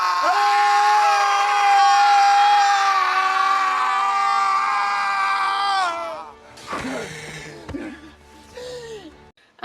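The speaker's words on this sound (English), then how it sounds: "they do this like primal screaming" Loud, sustained primal screaming from the film Speak No Evil, a long harmonic yell of about six seconds that breaks into shorter gasping, panting cries and fades away.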